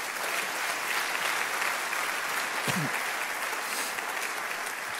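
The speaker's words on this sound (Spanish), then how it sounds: "Denle un fuerte aplauso al Señor." A church congregation applauds during a Spanish-language sermon, loud sustained clapping from many people throughout, with a brief voice-like sound partway through.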